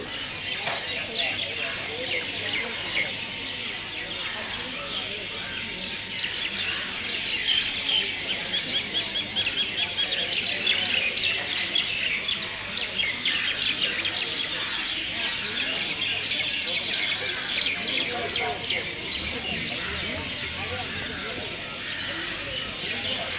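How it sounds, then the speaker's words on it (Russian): Birds chirp and twitter continuously around an ashram in India, a busy, steady chorus of small calls at moderate distance, with people talking intermittently underneath. "Щебечут, щебечут."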